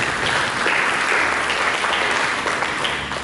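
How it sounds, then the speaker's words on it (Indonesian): Applause from a church congregation, a dense, continuous round of clapping filling the room, loud and steady before easing slightly at the end. "Kita berikan tepuk tangan bagi Yesus."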